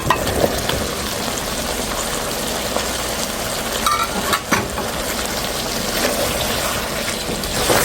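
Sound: ridge gourd sautéing in pan

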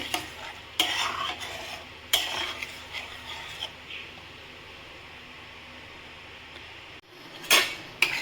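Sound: stirring paneer curry mixed with yogurt and water

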